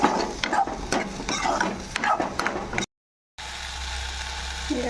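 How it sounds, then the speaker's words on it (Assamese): Food frying with khar, an alkaline ingredient, in a pan for an Assamese dish, heard as repeated spatula scrapes and clinks over a low sizzle, then a brief dropout before a quieter, steady hiss resumes. "খাৰকণ দিছোঁ, এতিয়া অকণ ভাজি থাকিম।"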